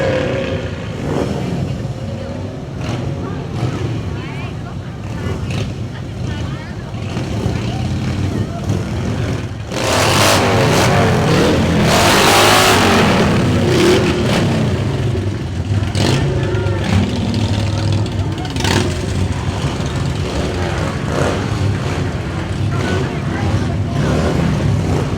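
Motorcycles rev loudly at a Veterans Day parade in Auburn, a steady engine roar swelling strongly midway and holding, mixed with crowd noise and the sound of other passing vehicles.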